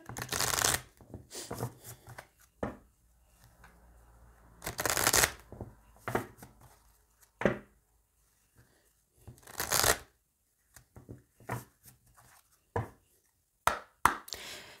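A deck of oracle cards is shuffled and cut in quick riffling bursts, close and crisp, with short quiet gaps between several rounds of shuffling.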